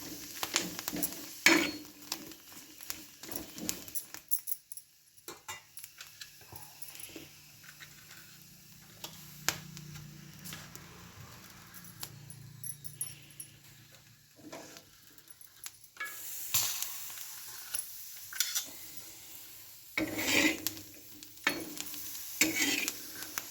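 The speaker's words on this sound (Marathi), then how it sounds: "त्या अशा तव्यामध्ये पहिल्यांदा भाजून घेत आहे। तर मिरच्या भाजल्यानंतर त्याच्यामध्ये थोडासा लसूण ॲड केलेला आहे।" Green chillies and garlic roast on a flat griddle pan, giving a faint, soft sizzle broken by intermittent scraping clicks of stirring, close but quiet, with no talking.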